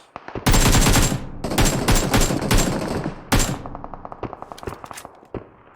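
Bursts of automatic gunfire in a mobile battle game, loud and close, with sustained volleys, a short pause and then another heavy burst, trailing off into scattered single shots and clanks.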